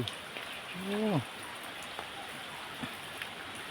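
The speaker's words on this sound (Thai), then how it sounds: "โอ้ฝนตกอีกแล้ว ฝนตกมาอีกแล้วครับ" Quiet, steady rainfall hisses evenly in the background, and a short vocal sound briefly rises above it near the start.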